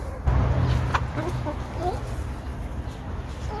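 Hens clucking near a chicken compost system in winter, several short soft clucks and murmurs close by over a low rumble of background noise, no talk.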